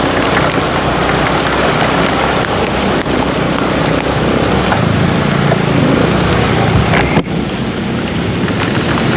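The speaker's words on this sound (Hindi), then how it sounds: "बहुत ख़तरनाक बारिश शुरू हो गई है भैया।" Sudden, heavy stormy rain pours down on a street in Karachi along Shahrah-e-Faisal, a loud, dense, continuous hiss mixed with gusting wind and no speech.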